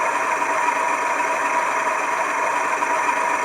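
An engine running steadily with a deep, throaty exhaust note, a constant loud drone with no pauses or talk.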